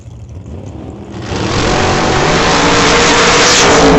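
Drag cars, a 1968 Chevelle and a 2005 Cavalier, launch off the line at a strip. Engines swell from a rumble into a loud, sustained roar close by, with no talk.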